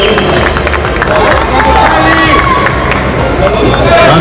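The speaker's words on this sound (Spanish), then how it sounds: "Fuerte el aplauso para recibir" A crowd at the IFBB South American Championship 2023 men's physique master bodybuilding event claps and cheers, loud and dense, with babble and voices mixed into the steady roar.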